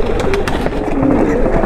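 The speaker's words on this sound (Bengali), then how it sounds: "এটা হলো বুর্রা ব্লাডলাইন ইন্ডিয়ান কবুতর" A Burra bloodline Indian pigeon coos close by in a steady, continuous murmur, soft rolling notes repeating without pause and no voices over it.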